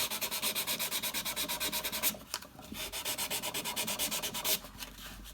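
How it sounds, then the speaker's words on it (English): Super fine sandpaper rubs back and forth on a Buck 110 knife near the pivot, a close, rapid, rhythmic scratching in even strokes with two short pauses. "This is just some super fine grained sandpaper."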